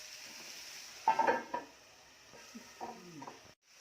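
Onions fry with green masala in a pan for prawn rice while a spoon stirs them in a few short, distinct scraping strokes and clinks against the metal over a faint sizzle, close up and quiet, with no talking.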